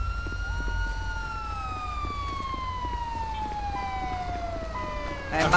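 A single steady siren tone from an RACV truck in a video game roleplay, droning and slowly falling in pitch, moderately loud against a low hum, with a brief louder burst at the end.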